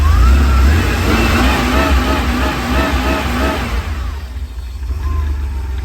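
A cold 1979 Porsche 911SC engine runs loud and close with a steady, throaty drone, briefly rising and falling in pitch before settling lower and quieter toward the end.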